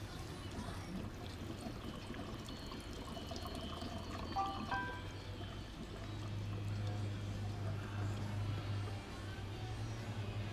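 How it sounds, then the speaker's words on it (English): Fuel pours from a pinched hose into the tank of a Tornado 280 boat, a steady, quiet liquid trickle under a low engine-like hum, with someone talking at times. "I'm having to pinch that hose in order to get that fuel to pour in there."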